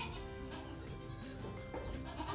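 Goats bleat in a barn while munching hay, with several overlapping cries close by amid busy rustling and animal movement.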